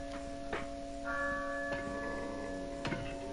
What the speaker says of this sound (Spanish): Oh, la campana.